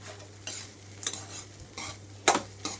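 A spoon stirs and scrapes tempering through ajwain rice in a pan, several separate strokes about half a second apart, with a faint sizzle underneath.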